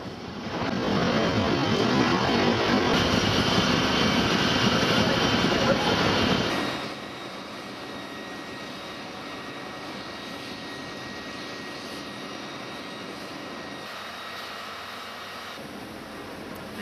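A military air force helicopter hovering over a ship during a firefighting and ammonia-leak exercise gives a loud, steady engine and rotor roar for about six seconds, then drops to a quieter continuous drone that persists to the end.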